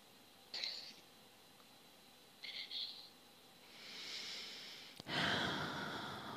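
A person breathes in and out audibly close to the microphone, with short sharp sniff-like intakes followed by a longer, deeper inhalation and a forceful rushing breath at the end.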